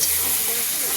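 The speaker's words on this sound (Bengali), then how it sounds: "এবার এই যে জলটা দিলাম, এবার একটু গায়ে লাগবে" Water poured into a hot pan of oil-fried spices for a pointed gourd curry, giving a steady close sizzling hiss with bubbling steam throughout the brief moment.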